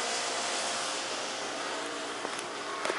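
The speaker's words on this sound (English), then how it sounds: "Now listen, the motor's right next to you, TJ." An Otis hydraulic elevator motor at Peaks of Otter Lodge runs close by, giving a steady, loud whirring drone that holds for the whole stretch with only slight flickers near the end.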